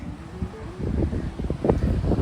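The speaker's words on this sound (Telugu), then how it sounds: "చల్లగా గాలి వస్తుంది." Cool wind at Colva beach in Goa buffets the microphone as a steady low rumble with gusty bumps, loud and close, with no other clear sounds.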